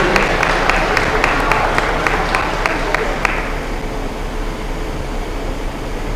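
A room of families applauds at a high school senior graduation breakfast, brisk clapping that thins out halfway through into a steady hum of ventilation.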